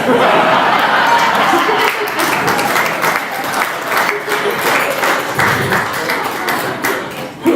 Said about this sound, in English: Your family and your friends applaud you tonight